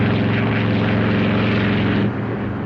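Propeller airplane engines drone steadily and loudly from a 1948 film, a rich continuous roar with a beating throb, dropping slightly in level near the end as one engine is throttled back.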